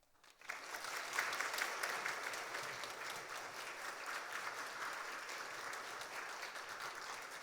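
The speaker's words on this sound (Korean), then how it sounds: "여러분 큰 박수로 축하해 주시기 바랍니다" A church congregation applauds a family receiving a birth-encouragement gift for a second son during a Korean worship service; sustained, even clapping from a full room starts abruptly and continues steadily to the end.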